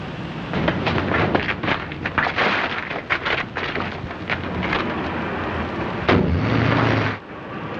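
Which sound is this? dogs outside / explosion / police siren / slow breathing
explosion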